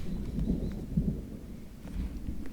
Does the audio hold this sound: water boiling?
no